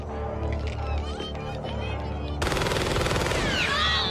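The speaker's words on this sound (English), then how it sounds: "How many times did he just shoot him?" Rapid gunfire from the 1984 film The Terminator, a burst of shots and machine-gun-like bursts over a dense action soundtrack, loud and sustained with shouting voices mixed in.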